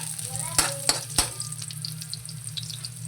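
Ginger and onion fry in a hot pan for ginataang suso, a steady sizzling hiss punctuated by three sharp clatters early on as ingredients hit the pan and get stirred, with no voices.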